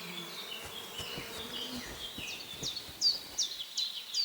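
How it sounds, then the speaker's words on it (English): A steady insect-like buzzing of bees in a meadow in the video game Kingdom Come Deliverance 2 hums throughout, with faint high chirps chiming in toward the end. "That sounds like bees."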